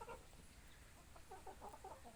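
Chickens and turkeys kept for sale cluck softly and intermittently, a faint flock murmur with a few short calls rising over low background noise.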